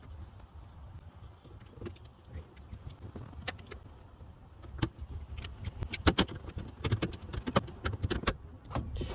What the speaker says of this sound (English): Take out the 4 Torx bolts that are holding the under fender material.